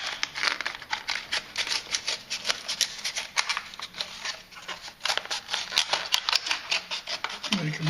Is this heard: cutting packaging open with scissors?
yes